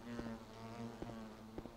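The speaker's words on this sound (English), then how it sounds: "that buzzing noise is absolutely horrible." Constant droning insect buzz from the video game Silent Hill 2, a steady low hum with faint pulsing clicks recurring roughly every half second, moderately loud and alone with no talk.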